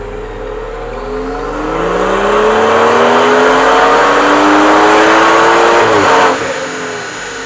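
Drag car engine runs up hard on a dynamometer, a loud, steady revving climb that rises in pitch for several seconds and then abruptly drops off, with no talking.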